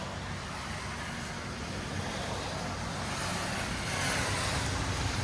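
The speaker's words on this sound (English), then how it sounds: "The 2012 Toyota Prius with a muffler delete and a vibrant in its place." Steady broadband exhaust drone from a 2012 Toyota Prius fitted with a muffler delete and a Vibrant resonator, a constant roadside rumble that swells slightly toward the end with no talk over it.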